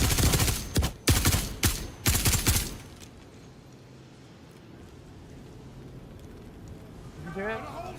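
Bursts of gunfire from Star Citizen combat footage crack out in quick succession over the first few seconds, loud and close, then fade to a low rumbling backdrop; a voice briefly chatters near the end.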